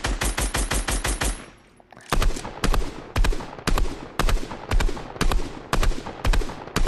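Ocean's mythic assault rifle in a shooter game, firing loud rapid automatic bursts close up: a fast volley, a short pause, then a string of evenly spaced heavy shots, with no talking.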